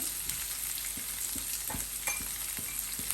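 Chicken fries in hot oil as masala spices such as chili, roasted cumin and coriander powder are stirred in, a steady close sizzle broken by regular scraping strokes of the spoon.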